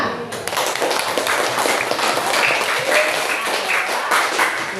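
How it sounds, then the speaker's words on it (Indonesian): Classroom applause: a sustained burst of many hands clapping together, dense and fairly loud throughout, with children's voices mixed in. "Beri tepuk tangan."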